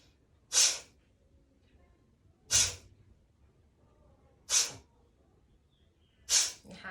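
Four sharp, forceful exhalations from bhastrika breathing practice, short bursts of air blown through the nose roughly two seconds apart, close and distinct against a quiet background.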